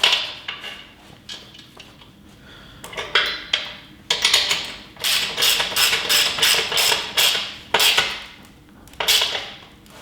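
Metal sockets ratchet and clink on nuts while a 2-ton folding shop crane engine hoist is assembled, close bursts of fast clicking and metallic rattles separated by brief pauses.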